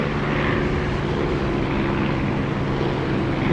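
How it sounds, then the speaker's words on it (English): Aircraft engine roaring steadily with the cockpit canopy open in the DCS flight simulator, a loud, continuous, broadband drone with a low throbbing rumble and rushing wind, close and unbroken throughout. "Just listen to the sound of the engine with the canopy open."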